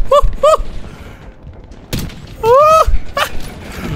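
Gunfire in the Black Ops 6 video game campaign: a few sharp shots and thuds scattered between bursts of warbling electronic tones, loud and close, with quiet gaps in between.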